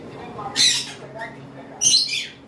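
A cockatiel gives two loud, harsh squawks about a second apart, each shrill burst close and sharp against a quiet room.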